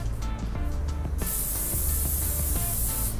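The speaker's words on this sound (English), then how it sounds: "we're spraying hairspray onto our fingers." Hairspray sprayed from an aerosol can onto fingers during hair styling: a steady close hiss that swells into a loud continuous spray and runs to the end, with no talking.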